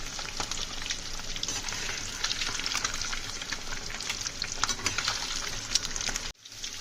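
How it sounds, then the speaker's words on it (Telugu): Eggs fry in hot oil until golden brown, a loud continuous close-up sizzle with crackling pops, cut off abruptly near the end before a brief quiet pause. "ఎగ్స్ని కొంచెం గోల్డెన్ బ్రౌన్ కలర్ వచ్చే వరకు ఫ్రై చేసుకుందాం."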